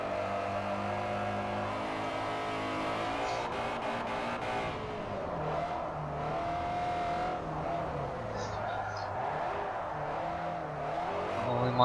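A race car drifting around the Fujimi Kaido mountain course in Forza Motorsport 4, its engine droning and revving through gear changes while tires squeal in long wavering howls as the car slides through the corners.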